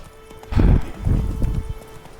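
Roach the horse gallops in Witcher 3, a few loud clip-clop hoof thuds bunching in two bursts, with a brief whinny mixed in and no talking.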